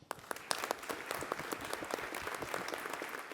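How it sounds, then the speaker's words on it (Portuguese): Applause fills a plenary hall at the Superior Labor Court (TST) in Brazil as newly elected ministers are received at their inauguration ceremony, a steady, soft clatter of many hands from a seated audience heard at a distance. "Os ministros eleitos para a nova administração foram recebidos com aplausos no plenário do TST."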